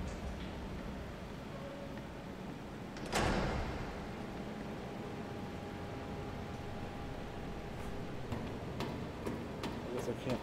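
A door slides open in the Resident Evil 3 Remake video game, a single sharp burst rising over a steady hiss of game ambience, then quieter ticking.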